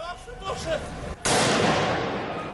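Gunfire from attackers aimed at a pursuing police officer during a street attack in Paris, a sudden loud burst of shots that sets off a sustained noisy roar after a few seconds of voices.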